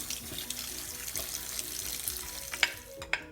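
Stinging nettles are washed in water with a spoon in a kitchen sink for soup. Running water hisses steadily and fairly quietly, and two sharp clinks of the spoon come near the end.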